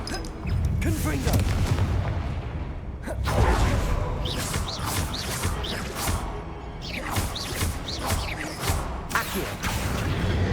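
Confringo blast spells cast in the game Hogwarts Legacy, heard as repeated heavy booming explosions with whooshing bursts and crashing debris, loud and dense, with a voice speaking intermittently between them.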